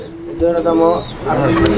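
Pigeons coo in a series of low, soft calls from a pair nesting on eggs, with someone talking over them in the background.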